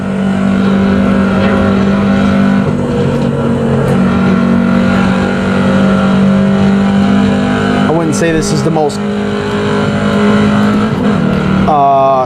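Corvette C7 Stingray engine in Assetto Corsa, a steady loud drone running throughout with a brief rising rev near the end, heard under continuous talk.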